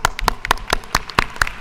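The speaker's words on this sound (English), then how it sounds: "Clap for them anyway" Steady, evenly spaced hand claps ring out in a state House chamber during a legislative session, crisp and fairly close, with no talking over them.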